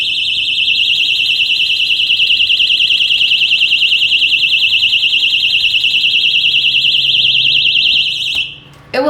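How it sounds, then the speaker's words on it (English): A personal safety alarm blares a piercing, steady electronic shriek with a rapid warble, very loud and close for about eight seconds before cutting off abruptly. "all you have to do to sound the alarm is pull this away from the body. It is really loud"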